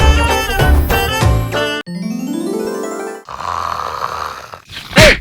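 Loud, exaggerated snoring from a televised comedy skit, mixed with comic sound effects including a rising whistle-like sweep and a final sharp snort, with no speech.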